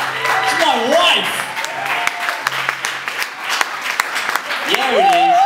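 Wedding guests cheer and applaud for the bride in a sustained burst of clapping and whoops, with voices talking and calling out over the crowd noise throughout.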